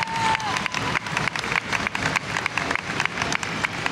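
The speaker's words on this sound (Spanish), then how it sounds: "y ahora viene la ovación de los de Matanza, Gabriela de la Rosa de Matanza." Applause and cheering from a crowd of young activists at a youth congress of the Polo Obrero, steady dense clapping with voices mixed in, sustained throughout.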